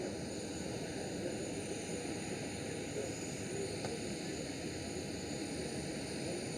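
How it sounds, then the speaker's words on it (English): A Norwegian Boeing 737 arrives at Amsterdam Schiphol, its engines a faint, steady distant roar that holds evenly throughout. "Red Nose, aka Norwegian 737."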